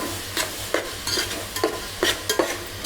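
Onions fry in a pan with salt for a spicy crab curry, a soft steady sizzle broken by repeated scraping stirs from a spoon at a fairly even rhythm, heard close up with no talking.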